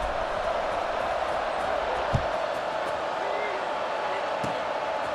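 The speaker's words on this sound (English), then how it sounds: "this crowd is buzzing after that last score" A large college football stadium crowd keeps up a loud, continuous buzz of voices, with a single sharp thump partway through.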